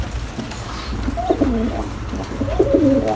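Pigeons coo repeatedly in a rhythmic, throaty pattern at a coop during heavy rain, with a steady low rumble of background noise underneath.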